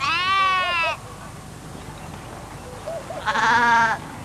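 Sheep and goats kept in herds bleat twice, loud wavering calls separated by a quieter gap with faint background murmur, no clear talk.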